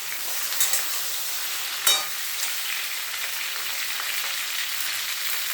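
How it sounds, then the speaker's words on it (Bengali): Okra sizzles and fries in hot oil in a pan, a soft steady crackling hiss with a couple of brief louder stir clatters, no talking over it. "এবার আমি ঢেঁড়সগুলো দিয়ে দেবো তেলের মধ্যে।"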